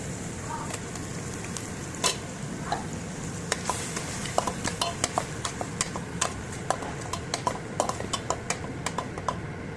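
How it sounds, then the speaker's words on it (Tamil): Onion paste sizzling and frying in a pan for a chapathi side curry, a steady crackle with irregular sharp clinks and scrapes from stirring, close and moderate in level, with no talking. "வெங்காய பேஸ்ட்டை நம்ம போட்டு ஊற்றிக்கலாம்."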